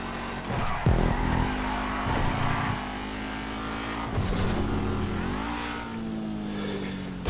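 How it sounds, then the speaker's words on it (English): A race car in the video game GTA 5 revs hard through gear shifts, its engine pitch climbing and dropping repeatedly, loud and continuous with brief tire noise. "It's a pleasant car drive."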